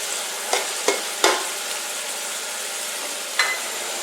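Chopped tomatoes and green chillies being stirred in a pan, with a few distinct scraping knocks of the spoon over a low steady background hiss.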